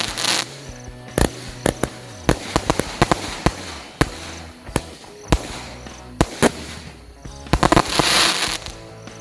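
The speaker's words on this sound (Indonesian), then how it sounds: "Nanti kita beli lagi mercon ini karena bagus banget." Firecrackers (mercon) go off during a Ramadan night, with loud, sharp bangs in irregular bursts and rapid clusters, followed by crackling showers near the end.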